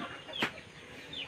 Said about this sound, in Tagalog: So manabahog ang manok.